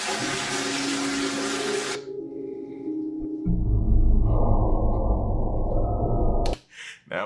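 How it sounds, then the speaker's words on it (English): A toilet flushes on its own: a rushing water burst cuts off, then after a short pause a heavier gurgling refill roar swells and runs steadily before stopping abruptly, close and loud. "one of the toilets started flushing all on its own"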